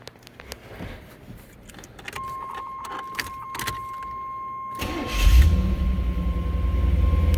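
A 1992 Chevrolet Camaro Z28 25th Anniversary Edition: keys jingle in the ignition and a chime rings, then the engine cranks and catches into a loud, steady idle rumble up close.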